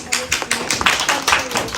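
Children clap at a school arts event, a quick patter of small hands in uneven bursts, fairly close, with voices mixed in under the clapping.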